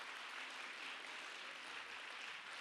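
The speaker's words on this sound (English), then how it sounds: "please give another round of applause to the beautiful, beautiful performance by the Salvador Choir" Audience applauding a choir performance at a Ladies Day evening program, a steady, dense wash of clapping that is fairly faint and distant, continuing evenly without voices.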